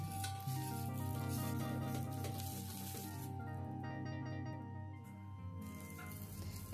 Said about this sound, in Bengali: এক এক করে সবগুলো পিঠা এইভাবে ভেজে তুলে নিচ্ছি